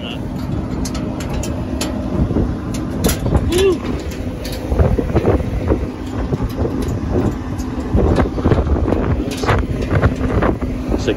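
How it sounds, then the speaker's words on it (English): Strong wind buffets the microphone in a constant roar, with rumbling engine-like noise underneath and no clear speech. "extremely windy"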